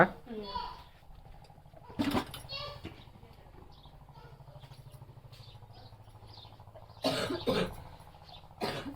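Two bursts of harsh coughing, one early and a stronger pair later, over a steady low hum with faint voices in the background.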